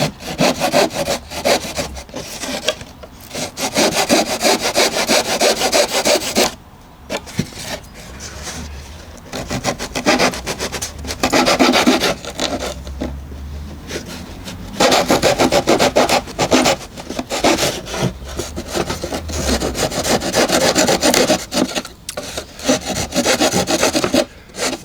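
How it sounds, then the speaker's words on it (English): Sanding a resin part from a Warbirds Replicas Hawker Tempest model kit with coarse grit, giving steady, close rasping strokes in repeated bursts with short pauses, loud and alone with no talking. "It makes it easier to sand."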